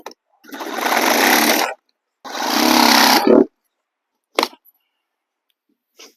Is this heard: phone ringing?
no